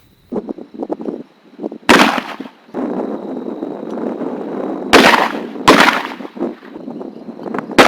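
Shotgun shells fired outdoors during duck-gun shooting, with three loud, sharp blasts spaced several seconds apart and a rumbling background between shots.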